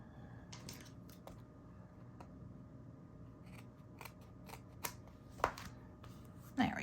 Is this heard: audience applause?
no